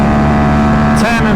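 Tuned Aprilia RS457 motorcycle with an SC Project S1 exhaust, a loud, close, sustained high-revving engine drone held near 10,000 RPM, with wind noise and a brief voice over it.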